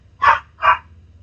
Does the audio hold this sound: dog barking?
yes